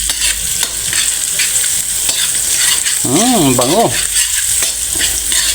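Onion and garlic sautéing in a pan for Tagalog batchoy, loud continuous sizzle with stirring scrapes, and a brief sung voice rising and falling midway over the frying.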